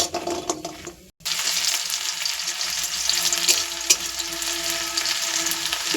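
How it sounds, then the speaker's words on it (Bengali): Bori lentil dumplings fry in hot oil, giving a steady, close crackling sizzle with faint stirring scrapes, briefly cut off near the start before resuming without any talk. "দেখুন বড়িগুলো ভাজা হচ্ছে।"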